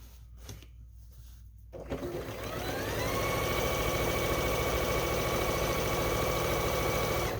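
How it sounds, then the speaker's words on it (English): A sewing machine stitching along the edge of a quilt top, starting after a few soft handling sounds and then running at a steady, loud, even hum with a rapid mechanical rhythm. "So I'm sewing by the edge of the quilt top"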